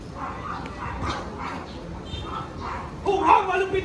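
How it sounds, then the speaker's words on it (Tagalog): A dog barks and yips several times, moderately close, amid background chatter and a voice that rises near the end. "Ang malupit na aso!"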